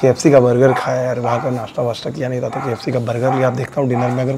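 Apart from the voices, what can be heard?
No everyday noises stand out.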